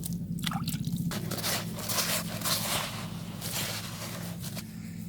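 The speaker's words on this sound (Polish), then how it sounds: "Domoczamy zamętę tą wodą z peletu, bo już fajnie tak śmierdząca." Pellet water being worked into fishing groundbait, giving steady squelchy, wet mixing and dripping sounds up close, continuous throughout with no talking.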